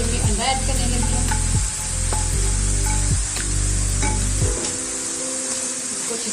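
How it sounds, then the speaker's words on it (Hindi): Egg cooking with vegetables in a pan for Chinese vegetable fried rice, giving a loud steady sizzle broken by a few sharp pan scrapes and clatters. A low droning hum runs underneath. "सब्जियों में अंडा ऐड करने लगे हैं।"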